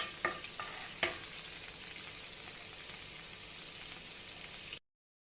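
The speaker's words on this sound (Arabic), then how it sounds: "وهنحمر بقى العيش" Bread frying in a pan while a tomato, vinegar and garlic sauce is readied for trotters stew, giving a steady broadband sizzle with a few sharp pops and clinks near the start, then cutting off abruptly.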